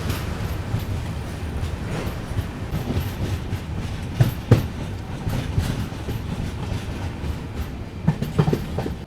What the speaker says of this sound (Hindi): तो अभी अपनी ट्रेन पहुंची हुई है चिटियाला नाम से एक छोटे से रेलवे स्टेशन पे